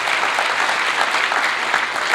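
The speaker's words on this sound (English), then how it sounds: "a nice round of applause" Audience applause at a Matric awards ceremony, a dense, steady clapping from a large crowd filling the hall without a break.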